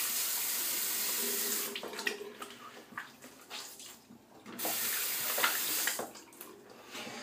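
Tap water runs and splashes as a head is wetted before shaving, a close hiss that breaks into uneven bursts and drips as hands move through the stream.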